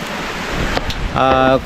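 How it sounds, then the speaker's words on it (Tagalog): Rain falls in a steady, hissing wash of noise outdoors, and a voice joins briefly near the end. "ito na nga, oh, umulan na."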